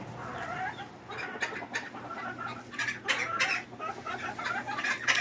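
Backyard chickens clucking inside a coop, several birds giving overlapping bursts of close, busy clucks over a low steady hum, with no talking.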